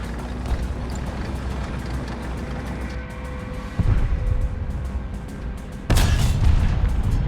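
A tank cannon in War Thunder, fired from an M46 Pershing, booms twice, each a sudden loud blast with a rumbling tail, over the steady drone of the engine.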